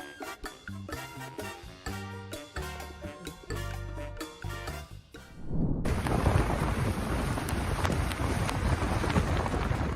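Strong storm winds sweep through an intersection, tossing construction barriers; a loud, steady roar of wind and rain fills the second half after a stretch of music.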